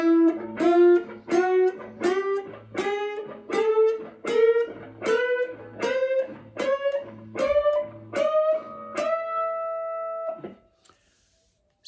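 Guitar bends while striking two strings together, a steady series of about a dozen plucked double-stops rising gradually in pitch, close and clear, with a final sustained note ringing out before silence.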